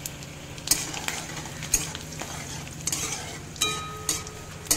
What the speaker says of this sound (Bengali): এবার তেলের মধ্যে দিয়ে দিচ্ছি শুকনো লঙ্কা, মাঝখান থেকে ফাটিয়ে নিচ্ছি, আর দিয়ে দিচ্ছি গোটা জিরে ফোড়ন হিসেবে